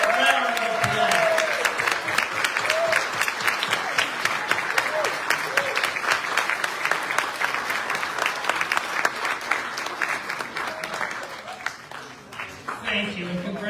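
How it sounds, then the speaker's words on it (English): A crowd at an awards ceremony applauds standing scholarship winners, long sustained clapping filling the hall, with a few voices heard underneath. "Let's give them a great round of applause."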